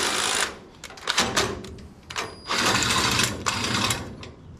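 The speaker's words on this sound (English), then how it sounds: "So I release just the M6 bolt for now, which is going to be a safety pin." An M6 bolt is released on the jack of a homemade light camping trailer, a close, loud burst of rapid mechanical ratcheting and whirring coming in several long runs.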